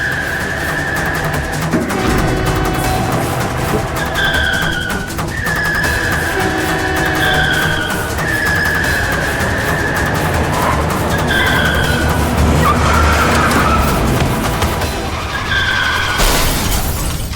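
Car tyres skid and screech in repeated, wavering squeals as the brakes fail, loud and close over a rumbling engine, with a sharp burst of noise near the end.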